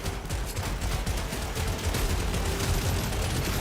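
Rapid gunfire from turrets in the video game The Division 2, a dense, continuous rattle of loud shots that runs through the whole stretch without pause.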